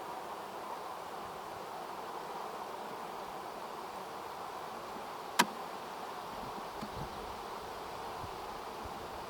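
Honey bees at a crowded hive close to swarming give a faint, steady hum with no pauses, broken once by a single sharp click.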